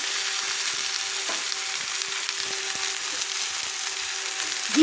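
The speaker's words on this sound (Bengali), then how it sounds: "এবার আমি পেঁয়াজ কলি আর আলু আবারও আমি একসঙ্গে একটু 1 মিনিট মতো একটু ভেজে নেব" Spring onion stalks and potatoes fry in a pan with a loud, steady, broadband sizzle, while a spatula stirs them in a few faint scrapes and knocks and a low hum runs underneath.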